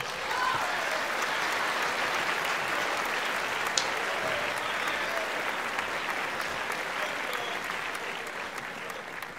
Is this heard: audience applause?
yes